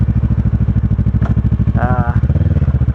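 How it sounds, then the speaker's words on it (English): A 2008 Kawasaki Ninja 650 motorcycle idles close by outdoors in late-winter snow, its engine throbbing in a fast, even pulse with a brief rise in pitch partway through. "I ride a 2008 650 Ninja."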